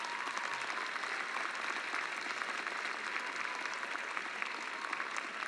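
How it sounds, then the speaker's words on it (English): Steady applause from a large crowd at a 2019 graduation ceremony, an even wash of many hands clapping at a distance, with no voices standing out. "give a warm round of applause to your loved ones behind you"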